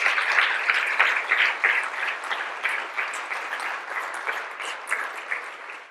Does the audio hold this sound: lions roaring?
no